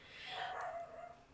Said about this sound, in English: I hope Coco's bark doesn't come through the microphone.